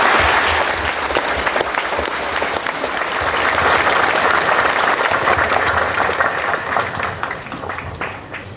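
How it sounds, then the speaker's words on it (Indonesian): Festive applause from a congregation at a Catholic priest ordination ceremony, loud and dense clapping from a large crowd sustained for about eight seconds before easing slightly at the end. "menyambutnya dengan tepuk tangan meriah"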